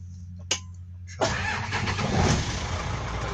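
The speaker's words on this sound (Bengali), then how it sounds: "গাড়িটা আমি স্টার্ট করে নিচ্ছি" A car engine starting: a click, a brief pause, then the engine catches and settles into a steady idle hum, close and alone.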